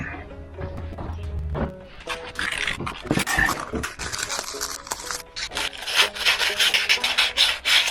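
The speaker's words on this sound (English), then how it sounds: "I'll get me a little piece of sandpaper. We'll clean that up." Sandpaper rubbing and rasping on a part while installing a pilot bearing in a 1965 Chevy 283 engine, a close, steady scratchy scrubbing in repeated strokes with brief pauses and a few knocks.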